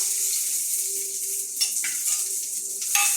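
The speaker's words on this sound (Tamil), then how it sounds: "போட்டு அது கொஞ்ச நேரம் வதங்கட்டும்." Onions sautéing in a pan after cumin, a steady bright sizzle with a few clinks and stirring scrapes of a utensil against the pan, close and continuous.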